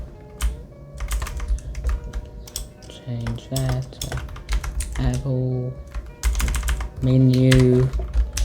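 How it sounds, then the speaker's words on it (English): Close keyboard typing in quick irregular clusters, mixed with a few brief tonal beeps or chimes in between. "So you can see me typing."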